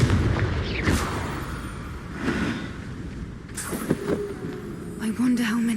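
In the Hogwarts Legacy game, Confringo fire spells blast in a series of heavy booms and explosive cracks spread across several seconds, loud and close, with voices talking around them.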